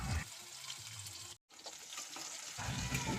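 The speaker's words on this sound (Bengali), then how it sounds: "আলুটাকে সবটাকে দিয়ে খুব ভালো করে কিন্তু লাল লাল করে ভেজে নিতে হবে" Potatoes frying in a pan for a bottle gourd dish, a quiet steady sizzle with a brief break partway through and louder bursts at the start and end.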